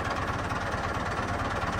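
A Massey Ferguson 385 tractor diesel engine idles steadily nearby, a continuous low rumbling drone with faint knocking texture and no talk.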